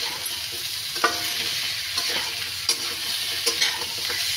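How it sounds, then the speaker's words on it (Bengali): Fried chhana fritters go into a simmering potato and pointed gourd curry, which sizzles steadily in the pan. Occasional spoon taps and soft plops of pieces landing come in close. "ছানার বড়াগুলোও দিয়ে দেব।"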